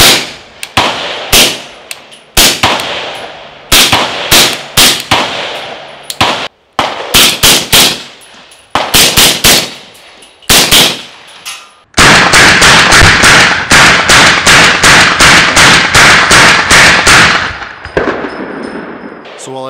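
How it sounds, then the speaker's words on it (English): Suppressed gunshots from a 10.3-inch barrel fitted with a Griffin Optimus silencer, loud sharp cracks fired singly and in quick pairs, then a long rapid string of closely spaced shots near the end. "that's one of the side effects of shooting suppressed on a shorter barrel"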